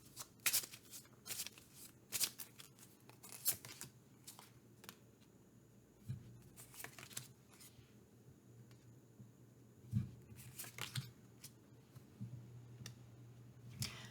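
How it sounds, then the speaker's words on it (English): Astro Chakra oracle cards being shuffled and drawn, a steady soft riffling and sliding of card stock with scattered crisp snaps and ticks, close and fairly quiet, with no talking. "I'm going to just pull 3 Astro Chakra cards."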